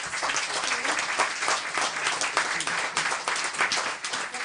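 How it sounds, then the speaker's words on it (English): A crowd at an evening event with filmmakers breaks into sustained, even applause, a thick continuous wash of many hands clapping throughout, moderately loud and free of speech. "Can we get another round of applause again, please, for our hot"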